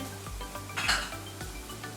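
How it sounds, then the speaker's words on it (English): Onion and garlic go into a hot pan for a vegan stir-fry, with a few metallic clanks and scrapes of a utensil against the pan and a brief brighter clatter midway, all fairly quiet with no talking. "Toss in the onion, get the garlic in"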